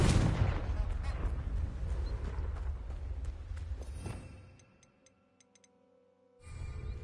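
A Confringo fire spell in a wizard video game bursts with a loud, booming blast that rumbles and fades over several seconds before the ambience cuts out, then returns.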